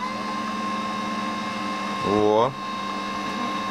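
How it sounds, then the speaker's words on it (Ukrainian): A homemade wire feed mechanism for a DIY MIG welder, a steady motor hum throughout with a brief rising whine as the rollers spin up, close by, under a short spoken exclamation. "Зараз спробую, як працює протяжка,"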